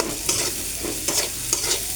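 Onions sizzle and fry in a pan, with a few soft stirring scrapes over a steady close crackle.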